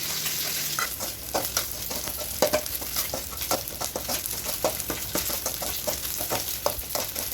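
Grated coconut fries in a sizzling tempering pan for dried fish chutney, a steady crackle with repeated scraping stirs and light taps of the spoon, close and continuous, no voices.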